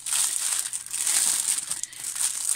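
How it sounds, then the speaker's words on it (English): Plastic packaging of a diamond painting kit crinkles continuously up close, a bright, dense rustling that sounds on its own for a couple of seconds. "Sorry for the crinkling."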